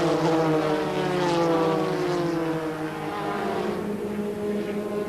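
Formula 3 racing cars at Silverstone during the final round of the 1984 Marlboro British F3 championship, a steady loud engine drone rising in pitch through a gear near Copse and Beckett, with no talk heard.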